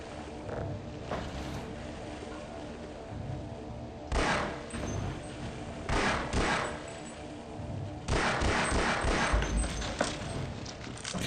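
Gunfire from Half-Life 1 erupts in dense, rattling bursts over a steady background rumble, with a sharp volley around four seconds and heavier sustained firing near the end; no one speaks.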